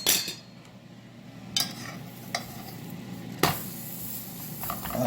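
Metal utensil scraping and tapping in a Gotham Steel nonstick pan while food sizzles, a few sharp clinks standing out over steady frying noise.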